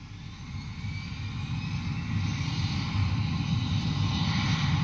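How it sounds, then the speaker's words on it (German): Airplane taking off as a sound effect: a steady, loud broadband jet roar with heavy low rumble, building slightly in intensity over about five seconds, no voices. "Das ist ein startendes Flugzeug."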